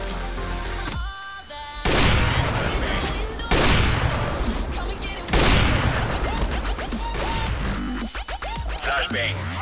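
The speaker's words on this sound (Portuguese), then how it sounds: "Flashbang." Video game gunfight in which a flashbang grenade is thrown, with loud bursts of automatic fire, sharp crashes and a blast, dense and continuous, broken by brief gaps and ringing tones.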